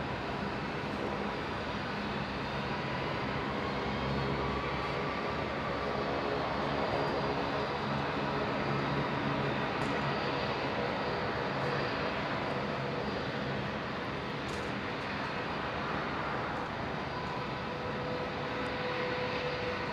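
An airliner in SkyTeam livery taxis toward runway 19 right at Brisbane, its engine roar a steady, broadband rumble that holds for the whole stretch without breaks or voices.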